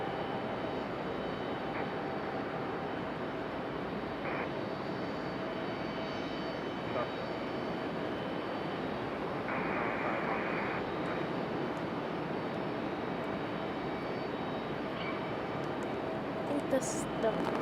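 A Boeing 777 creeps slowly along at Raleigh-Durham airport, its engines a steady, moderately distant whine and rumble that holds evenly throughout, with a brief higher tone in the middle.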